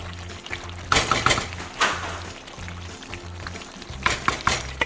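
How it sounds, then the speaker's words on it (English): Chicken karahi stirred in a pan on the stove: a few loud scraping, sloshing passes of the spoon through the saucy mixture, heard up close in bursts over a low steady hum, without speech. "What we're gonna do is we're gonna kind of stir it a little bit"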